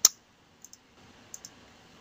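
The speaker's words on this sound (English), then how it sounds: "I'm just typing it in here" A few keystrokes typed on a computer keyboard while entering script code: a sharp click at the start, then two pairs of light, close taps with a faint hum behind them, no talking.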